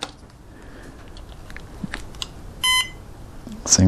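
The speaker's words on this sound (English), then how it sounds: "Single beep, it's all good." A single short electronic confirmation beep from a Cobra ESC on an RC plane, emerging briefly from quiet handling noise and small clicks, close by.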